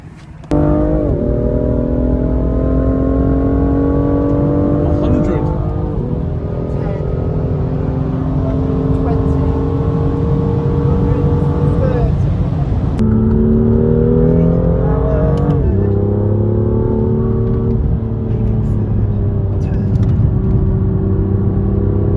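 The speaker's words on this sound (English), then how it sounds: "First time on track in the Chris's N55 M2." A BMW M2 with the N55 engine laps a race track. Its engine drones loudly from inside the cabin, with steady pulls and a few gear shifts, and speech sounds faintly over it.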